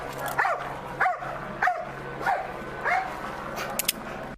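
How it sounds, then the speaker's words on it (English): A dog barks in the background at an LAPD police scene, five evenly spaced barks followed by a couple of quick yips, heard at moderate distance over a steady low hum. "I love hearing a dog barking in the background"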